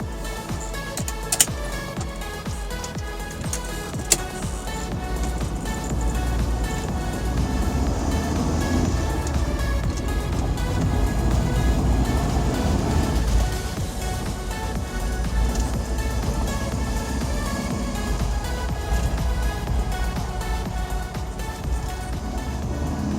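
A classic Ford Transit Mk1 Westfalia van drives up a mountain road, its engine a steady, continuous rumble with road noise running unbroken throughout, no talk over it.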